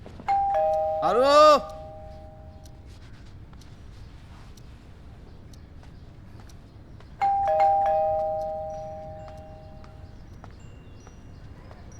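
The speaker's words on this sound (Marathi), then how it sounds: "एवढा वेळ बेल वाजते ऐकू येत नाही?" A household doorbell chimes twice, several seconds apart, each ring bright and ringing out in a quiet room. A voice exclaims briefly during the first ring.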